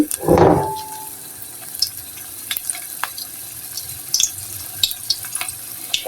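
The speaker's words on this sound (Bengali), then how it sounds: "তেলটা আমার হচ্ছে গরম হয়ে গেছে এখন আমি এরকম শেপ করে করে নাস্তাটি দিয়ে দিচ্ছি" Shaped semolina and onion-leaf snacks drop into hot oil with a loud burst of sizzling, which settles into a quieter, steady crackle and scattered pops of frying.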